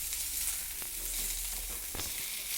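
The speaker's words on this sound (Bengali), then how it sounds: "সজনে ডাঁটাটাকেও একটু নাড়াচাড়া করে নিলাম" Drumsticks (moringa pods) stirred and fried in a little oil with potato, a steady hissing sizzle close by with a couple of brief scraping stirs, no speech.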